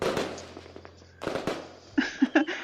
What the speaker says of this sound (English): I looked up to Damien, watching him become entranced by the fireworks